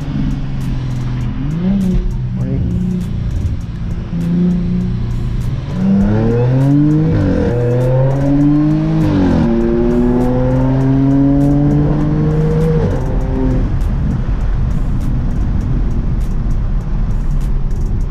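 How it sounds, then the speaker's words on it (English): A supercharged Audi A7 accelerates hard in a street race, its engine note climbing loudly through several rising sweeps separated by brief gear-change dips, then settling into a sustained roar. "I want to race it here."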